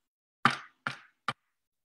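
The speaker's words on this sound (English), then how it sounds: "he knocked on the door" Three distinct knocks on a door, close and fairly loud, evenly spaced with brief silences between, the last one shorter and sharper; no voices.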